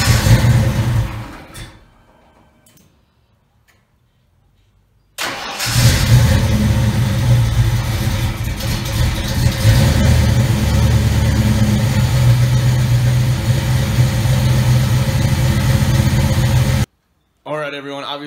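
A Mustang engine with GT40 heads cranks and starts on the first try after a few quiet seconds, then settles into a steady, loud, close idle that runs for about twelve seconds before cutting off.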